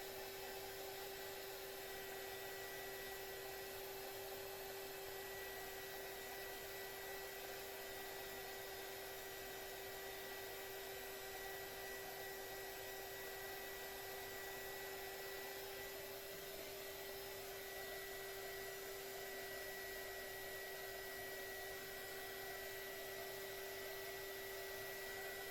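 A heat gun blowing on acrylic paint to dry it gives a faint, steady airy whir with a constant hum, running unbroken and alone for the whole stretch.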